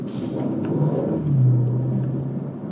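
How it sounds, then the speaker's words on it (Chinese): Bentley Continental GT engine revving on a narrow road, a deep, loud rumbling surge that rises in pitch, heard close and steady from inside the car without talk. "发动机的声音确实不太一样啊， 确实不一样。"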